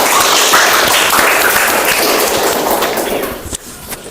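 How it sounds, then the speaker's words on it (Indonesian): Audience applause in a university classroom session, a dense burst of many hands clapping loudly, then thinning out and fading to scattered claps near the end. "Tepuk tangan."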